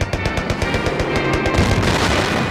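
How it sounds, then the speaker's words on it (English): Mustang fighter planes strafing anti-aircraft positions, with a rapid, loud stream of machine-gun bursts that fire in a quick rhythm and then blur into continuous rattling. "the Mustangs went in first of all to strafe any ack-ack positions"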